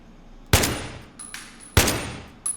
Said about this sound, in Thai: ผมโดนใครยิงไม่รู้